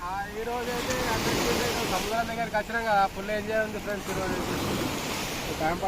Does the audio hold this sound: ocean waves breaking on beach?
yes